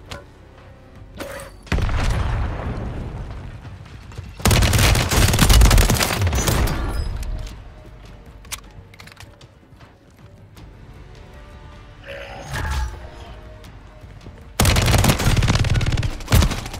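Video game gunfire in Warzone 3, shooting through walls, comes in several loud, dense bursts separated by quieter gaps, with no talking.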